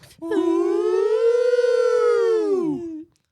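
Several voices imitating an air raid siren in unison, a loud wail that rises, holds steady for about two seconds, then drops away and stops abruptly.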